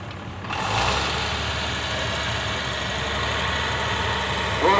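A 1960 International Lowboy tractor engine idles at an antique tractor parade, a steady close mechanical rumble and vibration that swells in slightly after a quieter opening and holds evenly throughout.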